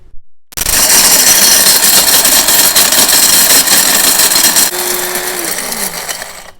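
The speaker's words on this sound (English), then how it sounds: "we don't want a great deal of corn in the grinder, about 2 small handfuls, because otherwise it has a hard time getting it ground up" An electric grinder grinds a couple of small handfuls of dried field corn into cornmeal, giving a loud, steady whirring roar for about six seconds that winds down in pitch at the end. No one speaks.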